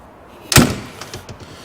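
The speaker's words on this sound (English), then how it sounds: "Don't like to slam doors. There we go, that shuts nicely." A big, hefty door on a classic car shuts with one solid, close thump, followed by a few faint clicks and rattles as the latch settles.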